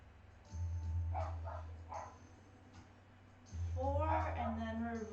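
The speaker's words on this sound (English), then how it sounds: "Please excuse my barking dog." A dog barks at home, heard as a few faint, distant barks over a low steady hum while a person speaks nearby.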